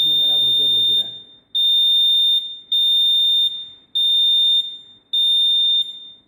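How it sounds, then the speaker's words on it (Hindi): A buzzer on the output of a capacitive proximity sensor sounds in loud, steady electronic beeps, five in a row with short gaps between them, after a brief bit of speech at the start. "आउटपुट में मेरा बजर बज रहा है।"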